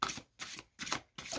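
Tarot cards handled and drawn in four short, quiet papery bursts separated by brief silences, close and alone without talk.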